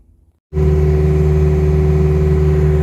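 A John Deere 324 skid steer engine catches after a brief quiet moment, then settles into a loud, steady, close-up droning rumble with a strong low hum while the machine is driven.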